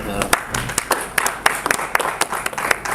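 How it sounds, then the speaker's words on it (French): Scattered clapping from an audience at a press conference launching a third album: sharp, uneven hand claps close by, mixed with talking throughout. "Est-ce qu'on peut applaudir"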